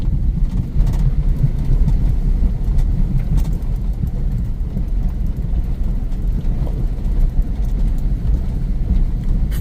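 A train travelling in India gives a loud, steady low rumble with broadband rushing noise, continuous and close, with no talk.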